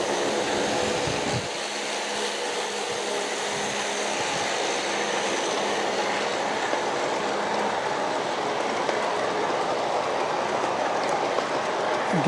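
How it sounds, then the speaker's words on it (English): A continuous rumbling drone of small Wisconsin Central SD45 model train locomotives steadily climbing a grade, pulling a 42-car train on a layout, with faint rail clatter and no pauses, heard up close. "now it's coming up the grade here with the Wisconsin Central SD45s"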